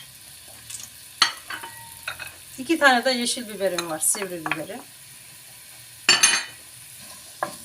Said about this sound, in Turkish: Bunları güzelce kavuruyoruz.